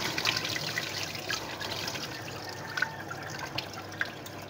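Rinse water is poured off washed rice for nasi lemak, a faint, continuous trickle and dribble with a few sharper drips, quiet and close.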